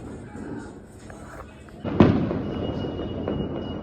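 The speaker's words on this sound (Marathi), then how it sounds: "सर्वीकडं आता दिवाळीसारखंच वातावरण झाले, फुल फटाके चालू आहे सगळीकडे" Firecrackers and fireworks burst outside amid festive celebrations around a cricket match: one sharp, loud bang lands midway over a crackling outdoor background, with faint voices nearby.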